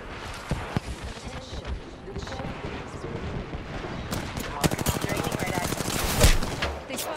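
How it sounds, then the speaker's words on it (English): Gunfire from a battle royale video game fills the mix with sporadic single shots followed by rapid automatic bursts. The shooting is loud and close and builds toward the end, while someone talks over it. "They spotted me. I'm taking shots."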